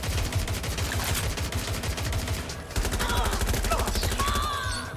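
Rapid assault rifle bursts in the video game Watch Dogs: Legion, with loud, dense automatic fire rattling almost continuously, a brief gap midway, and other game effects layered on top.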